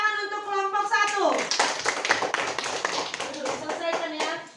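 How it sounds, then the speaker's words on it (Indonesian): A classroom group of children applauds group 1 with a burst of brisk, close clapping lasting several seconds, while a voice speaks over the start before the claps fade. "kasih tepuk tangan untuk kelompok 1"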